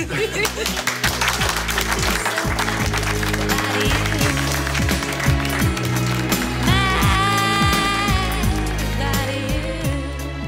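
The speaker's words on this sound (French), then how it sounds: "alors je pense que vous pouvez vous applaudir plus fort." A seminar audience claps louder after being urged on, sustained crowd applause mixed with pounding bass-heavy music that continues for the whole stretch.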